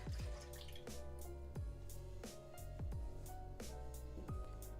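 Oatly oat milk poured into a measuring cup, giving a faint series of close, uneven glugs and drips with soft low thumps, quiet and alone.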